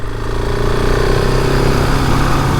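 A 2020 KTM 690 Enduro R single-cylinder motorcycle idles at traffic lights, a steady loud close throb with a rapid even pulse and a little wind noise, with no talking.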